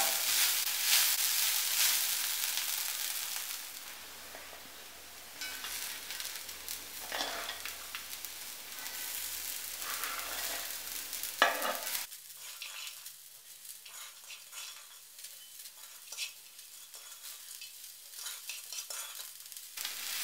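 Chopped papaya frying and being stirred in a pan for a simple Kerala home lunch, with a steady broad sizzle and scraping stirs that quiet down after a clank around twelve seconds, no talk.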